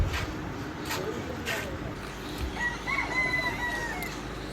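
Chickens and roosters at Peeku Park, a bird park in Yercaud, can be heard. A rooster crows at moderate distance over a steady background hum, with a few faint clucks and chatter around it.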